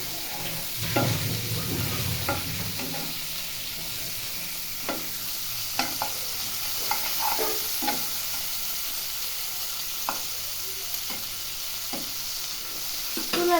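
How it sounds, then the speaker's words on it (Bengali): Large freshwater prawns sizzle steadily in a hot pan while a utensil stirs them, with irregular scraping knocks scattered over the continuous frying hiss. "মাছগুলোকে এখন ভালো করে এভাবে নাড়িয়ে নেব।"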